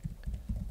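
Typing on a computer keyboard during a live software demo, a few soft, quick keystrokes in an uneven rhythm, close and fairly quiet, with no speech over them.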